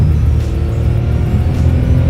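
A 1976 Porsche Kremer 935 turbo race car engine droning loud and close, a deep continuous rumble with slight surges in pitch, no voices over it.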